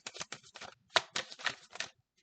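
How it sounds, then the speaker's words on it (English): A deck of cards being shuffled by hand: a quick burst of crisp riffling flutters, about eight short bursts in rapid succession, close and fairly quiet, ending in a brief tap. "All right, we'll do one more shuffle."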